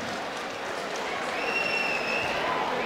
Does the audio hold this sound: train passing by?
no